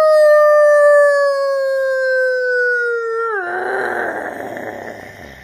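A voice imitates a werewolf with a long, loud, drawn-out howl that falls in pitch, then breaks into a rough, raspy growl that fades out.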